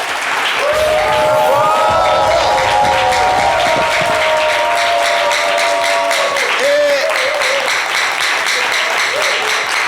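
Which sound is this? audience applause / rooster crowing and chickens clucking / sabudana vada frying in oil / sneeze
audience applause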